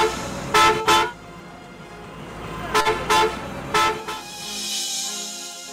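Vehicle horns honking in road traffic, about five sharp, loud blasts in short bursts and pairs over a low rumble of passing vehicles.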